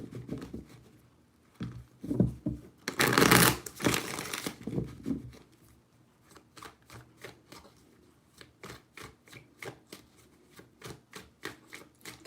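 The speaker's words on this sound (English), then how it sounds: "Three shuffles." Cards riffle in a loud burst, then a rapid series of crisp, rhythmic taps and flicks follows as the deck is handled.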